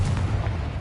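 Confringo blasting spell cast in Hogwarts Legacy, a short loud booming blast with deep rumble, close and heavy, fading quickly.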